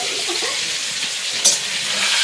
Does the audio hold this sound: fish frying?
yes